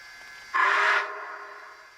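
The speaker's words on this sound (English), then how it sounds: "'26 is short whistles." A brief, bright whistle blast of about half a second from an ESU LokSound decoder in a Rapido CPR H1b Hudson 4-6-4 model steam locomotive, then a softer lingering hiss that fades away.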